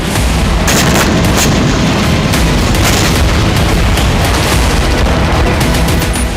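Hezbollah rocket explosions in northern Israel, loud, dense and continuous rumbling with repeated sharp bangs and booms piling over one another, heavy and distorted throughout.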